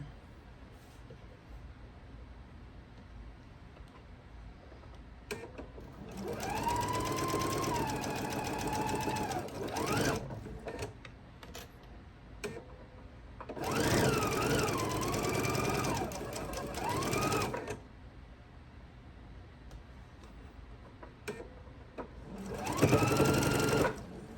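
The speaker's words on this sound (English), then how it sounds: "we will sew these two pieces together" A domestic sewing machine stitching quilt pieces together in three separate runs, each a close, fast whirring buzz that speeds up and slows down, with quiet pauses and handling noises between runs.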